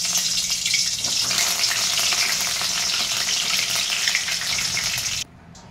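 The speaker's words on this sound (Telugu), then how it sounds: "కరివేపాకును ఎక్కువ నేను స్టవ్ బంద్ చేసి వేపుతానండి" Curry leaves fry in hot oil with the stove switched off, giving a dense, steady sizzle that runs close and loud for about five seconds before cutting off abruptly.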